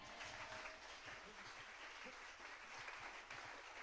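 A church congregation claps and cheers in acclaim of Jesus, a dense, steady wash of applause that fills the whole stretch without letting up.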